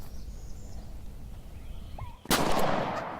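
A single loud gunshot cracks out during a spring turkey hunt, breaking a quiet outdoor stretch with faint bird calls, then ringing and echoing briefly in the open air.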